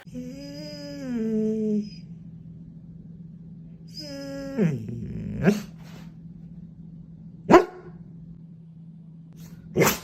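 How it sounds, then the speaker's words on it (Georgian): A dog whines in drawn-out, wavering tones, then lets out a few single sharp barks spaced a couple of seconds apart, close by. "ესე შიგადაში პაუზებით რო იყეფება, რაღაცას ითხოვს."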